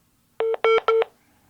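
Three short electronic dial tones in quick succession, clear and close, with near silence before and after.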